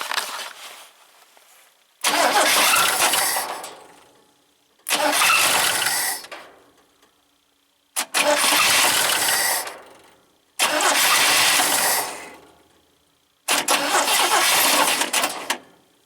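A 1971 International Scout 800 with an AMC inline engine, parked for a long time, cranks over in six separate loud bursts with short silent gaps between them, and the engine never settles into a run.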